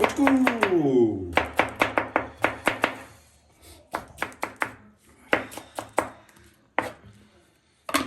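Knife chops cucumber into small pieces for a kachumber salad in a home kitchen, sharp board strikes in quick bursts, close and fairly loud, with a voice talking over the start.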